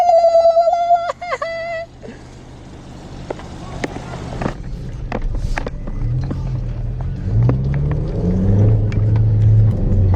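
A 2019 Kia Stinger pulls away and drives, its engine rumble building into rising revs, with a short chirping tone at the start and faint voices in the car.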